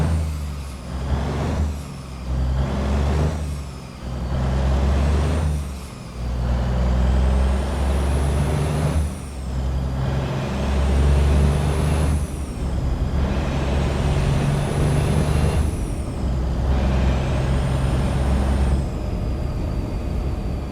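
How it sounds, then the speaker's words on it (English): A straight-piped Cummins N14 diesel engine in a truck in American Truck Simulator drones loud and steady, its pitch rising and falling in repeated swells as the gears shift, with air brake hisses in between and no talking. "It's just that diesel engine noise."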